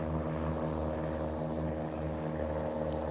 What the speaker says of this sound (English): heard another airplane just take off